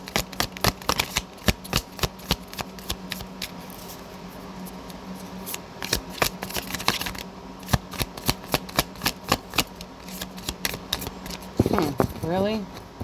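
Dense, rapid riffling of tarot cards being shuffled in bursts, close by, with brief pauses between riffles and a soft voice near the end.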